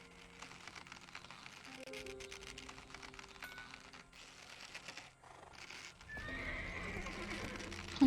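A wild horse in the Black Desert Online video game whinnies near the start, with clattering hooves and a rapid clicking like keyboard typing running through, and a busier burst of activity toward the end.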